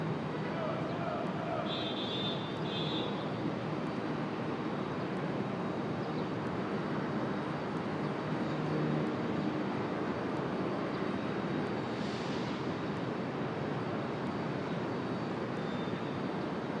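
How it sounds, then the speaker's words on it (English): Boeing 787 Dreamliner airliner at Raleigh-Durham International Airport, a steady broadband jet engine roar filling the whole span at moderate distance, with faint bird chirps and other background sounds. "All right, enjoy the Dreamliner."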